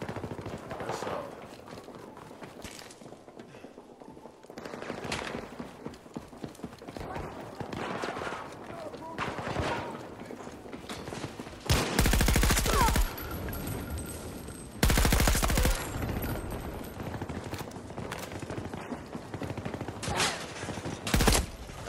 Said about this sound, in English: That was an actual real person shooting at me, letting off all them shots like that.